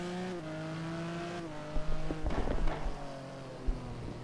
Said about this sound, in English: Can you hear the cars now, guys?